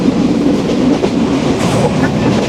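Inside the Simanta Express passenger train on a night run from Khulna to Chilahati at about 82 km/h, a loud, steady rumble of wheels and carriages fills the cabin with faint clickety-clack.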